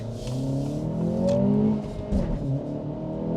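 A 1.5-litre turbo engine in a manual Acura Integra A-Spec revs, heard from inside the car as a rising then falling engine drone with a second brief surge, moderately loud and without talk.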